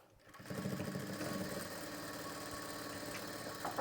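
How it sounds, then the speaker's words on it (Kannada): A sewing machine stitches blouse fabric with a small stitch length, starting after a brief pause and then running in a steady, rapid mechanical whirr close by. "ಹೊಲಿಗೆ ಸಣ್ಣದು ಇಟ್ಕೊಂಡು ಈ ಡಾಟ್ಸ್ನ ಸ್ಟಿಚ್ ಮಾಡ್ಕೊಳ್ಬೇಕು."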